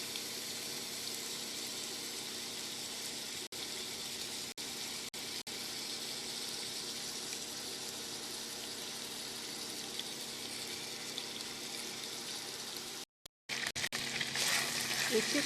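Meat frying in hot oil in a pan, a loud steady crackling sizzle that runs unbroken close up, with a brief dropout near the end before resuming stronger.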